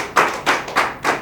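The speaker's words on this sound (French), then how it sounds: "en nous applaudissant nous-mêmes." An audience at an international symposium of civil and university authorities gives a short burst of applause, four quick loud rounds of clapping close by, with no talk.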